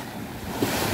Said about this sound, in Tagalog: Tingnan po yung hampas ng dagat sa seawall.